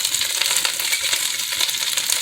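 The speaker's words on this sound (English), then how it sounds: "it's starting to sizzle a little bit. You hear that sizzling?" Cabbage stir-frying in a pan gives off a steady, dense sizzle with fine crackling, continuous and fairly loud throughout, no voices over it.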